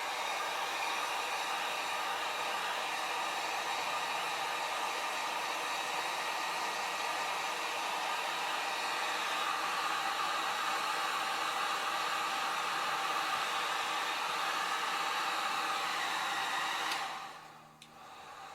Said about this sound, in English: And that's what this is, a heat gun. We're going to go on low and just kind of get it warm.